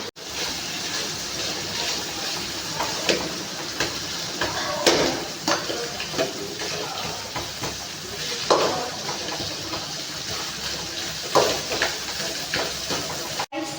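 Onions frying in oil for chicken gravy, a steady crackling sizzle with intermittent scrapes and stirring clatter from a spoon in the pan, continuous and close throughout.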